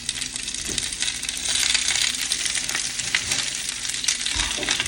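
Spinach and mushrooms for an omelette cook in a pan with a steady, fairly loud sizzle and frying hiss, broken by a few light clinks and stirring scrapes of a utensil against the pan throughout.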